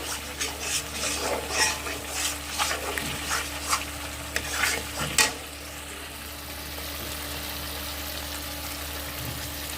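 Shahi paneer masala is stir-fried in a pan with a spatula scraping and stirring in rhythmic strokes over a sizzle, then the stirring stops and only a quieter steady sizzle and hum remain.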